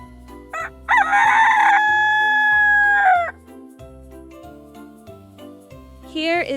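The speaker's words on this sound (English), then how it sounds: "What sound does the chicken make?" A rooster crows in one loud, sustained cock-a-doodle-doo over a steady musical beat, followed near the end by a brief cluck.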